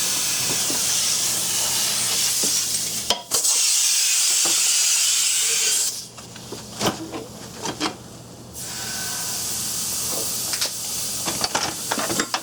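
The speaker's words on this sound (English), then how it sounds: "my compressor might get kind of loud" Air compressor running in a shop during a TKO 500 transmission case teardown, a steady loud hissing and rumbling drone with a brief dip, then a stretch of knocks and clatter before the hiss resumes.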